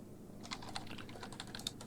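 Quiet, close typing on a computer keyboard gives a quick run of soft, irregular keystrokes over faint background hiss.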